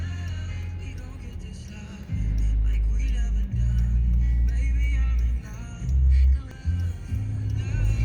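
Morning road traffic on Snelling, heard from inside a moving car: a steady low engine rumble that swells and drops as the vehicle accelerates and slows, with passing vehicles in the background and no talking.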